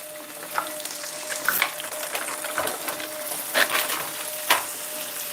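Breakfast frying in hot oil in a stainless steel pan, a steady close sizzle with occasional louder spits and pops, no voices over it.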